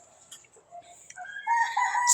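A gamefowl rooster crows once nearby, its call rising and holding loud and clear over faint background clucking.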